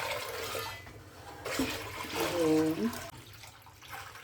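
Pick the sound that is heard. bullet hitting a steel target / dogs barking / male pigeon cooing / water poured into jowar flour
water poured into jowar flour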